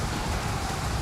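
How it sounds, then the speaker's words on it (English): Hailstorm in the strategy game Total War: Pharaoh: a steady, dense roar of pelting ice, like heavy rain drumming on surfaces, continuous and fairly loud throughout with no voices. "Send the hailstorm!"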